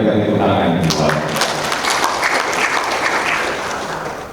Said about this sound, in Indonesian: luar kita berikan tepuk tangan